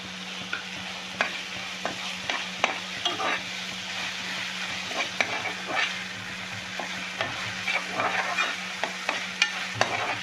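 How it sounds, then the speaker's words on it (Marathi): Ready-made ginger-garlic paste frying in a pan for prawn masala, with a steady sizzle and a spatula scraping and stirring in repeated sharp strokes, close and alone with no voices. "आमच्याकडे रेडीमेड आलं लसूणची पेस्ट आहे, तर ती घालतो आहे"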